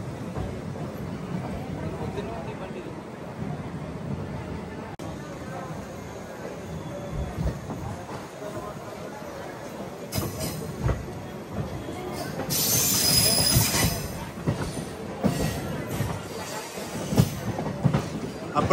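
Aboard a DMU passenger train between Kurnool and Guntakal, the rumbling ride slows down, with wheel noise, rattles and a brief high squeal, while people talk over it.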